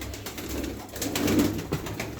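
A female Gitti tumbler pigeon, a fancier's show bird, coos close by in a steady low throaty burble, alone with no voices.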